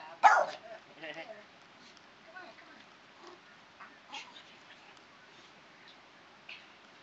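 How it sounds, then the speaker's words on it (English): A dog gives a sharp bark near the start, followed by a few softer yips and whimpers, with people talking quietly around it in a domestic setting. "that's a good bark."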